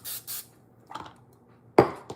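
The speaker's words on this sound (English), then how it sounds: "even though these are silicone, I'm still gonna spray it a bit" Cooking spray hisses in two short bursts into silicone bread pans, followed by soft handling clatter and a sharper knock of a pan being set down, close and with no talking.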